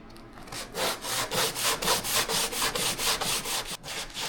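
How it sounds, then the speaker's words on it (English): Coarse 80-grit sanding disc rubbed by hand along a wooden edge in a motorhome interior, loud rhythmic back-and-forth rasping strokes, about a dozen in quick succession, close and alone. "I take one of my sanding discs, and right now I'm using 80 grit, and all I do is I go along the side like this"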